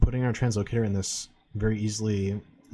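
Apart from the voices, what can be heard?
No everyday noise stands out behind the speech.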